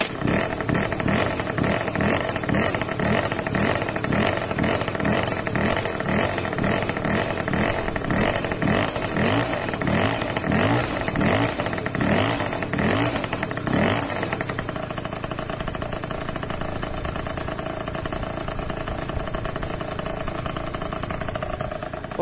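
Old 50cc moped engine running close by after a kick start, a loud rapid two-stroke buzz with uneven pulsing revs that settles into a smoother steady idle partway through.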